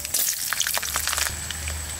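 Black cumin, garlic and green chillies fry in a wok with a loud, close sizzle and bursts of crackling spatter that ease into a steadier hiss.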